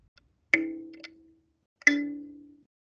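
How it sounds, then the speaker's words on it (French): Two separate plucked notes from a sansa thumb piano, its metal tines ringing out with a bright attack and a long, slowly fading hum, heard alone with brief quiet between them. "la sansa, c'est des lamelles de métal qui vibrent"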